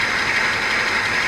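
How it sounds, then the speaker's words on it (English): Close, steady engine note from a 2017 BMW M240i idling with a heavy timing chain rattle, a continuous bright metallic clatter running over a low rumble, with no voices. "that sounds like a heavy timing chain rattle"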